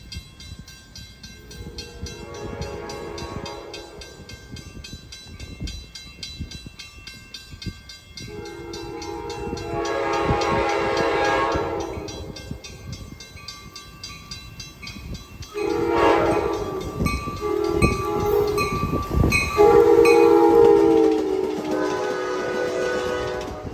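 An Amtrak passenger train rumbles past close by in eastern New England, sounding its horn in several loud blasts over the steady roar of the wheels.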